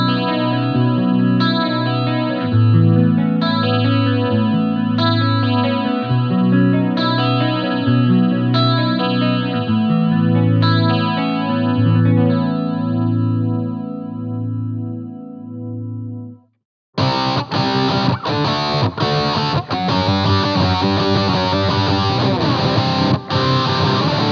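Electric guitar played through a JOYO DC-15S combo amp with built-in effects and miked in the room: chorus-washed picked chords ring for about sixteen seconds, pause briefly, then give way to a harder, distorted rhythmic strumming passage.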